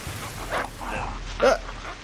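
A short-eared dog in the Survival: Fountain of Youth video game, three brief yips or barks spaced within two seconds, the last loudest, over a low background hum.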